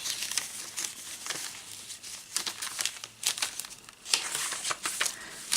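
A paper bag and a small kit envelope for a shabby chic soft cover journal rustle and crinkle up close, in a steady run of papery crackles with sharper bursts as they are handled.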